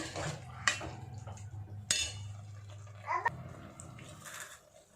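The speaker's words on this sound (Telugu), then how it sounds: "ముందుగానే కొంచెం కొత్తిమీర పుదీనా రెండు పచ్చిమిరపకాయలు వేసుకొని బాగా కలుపుకోవాలి" Coriander, mint and green chillies mixed by hand in a bowl while making chicken dum biryani: light utensil scrapes and stirring, broken by a few sharp metallic clinks and clatters, close and fairly quiet.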